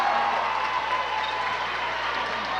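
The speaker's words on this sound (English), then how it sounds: "So the crowd applauds her on her senior day." Steady applause from a crowd in a gym at a women's college basketball game, honoring a player on senior day, sustained and even throughout.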